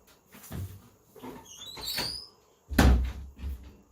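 A door is pushed shut indoors: soft shuffling and a brief creaky squeal as it swings, then a solid, close thump as it closes, followed by a little rattle.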